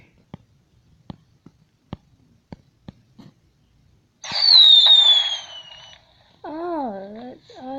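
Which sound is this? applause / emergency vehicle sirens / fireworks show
fireworks show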